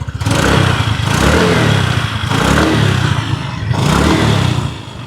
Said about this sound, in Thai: คราวนี้นะครับมาลองฟังเสียงเครื่องยนต์กันหน่อย เสียงเครื่องเดิมๆนะครับประมาณนี้